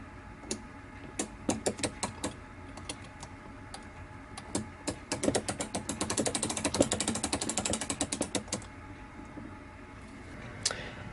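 An aluminum Ollie Baker style mainspring winder ratchets as a clock mainspring is wound, giving sharp pawl clicks that come in scattered bursts and then a fast, steady run of close clicking.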